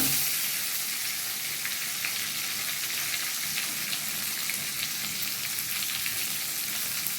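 Chopped onion and cumin seeds fry in hot oil, giving a dense, even sizzle that holds steady and close throughout with no voices.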